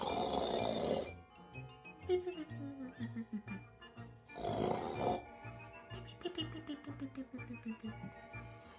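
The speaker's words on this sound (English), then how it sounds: "He began to snore." A man snores in an old radio drama, with loud, rasping in-breaths near two and five seconds, over soft background music.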